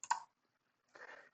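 A computer mouse is clicked during a Maya animation session: one sharp close click, then silence, then a softer brief rustle or second click, quiet and isolated with no talking.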